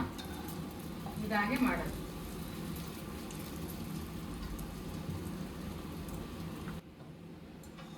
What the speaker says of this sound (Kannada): ಇದನ್ನ ಇವಾಗ ಎಣ್ಣೆ ತೇಲಿಸಿ ಚಿರೋಟಿ ಮಾಡೋದು ಹೇಗೆ ಅಂತ ತೋರಿಸ್ತೀನಿ